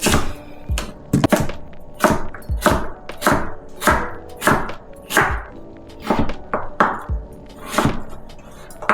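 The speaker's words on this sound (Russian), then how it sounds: "Крупно нарезаю кубиками." Daikon radish being chopped into large cubes with a knife on a cutting board, a rapid run of sharp, evenly spaced thunks, about two per second, close and loud.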